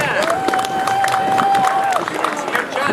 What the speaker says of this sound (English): A rousing cheer for that guy.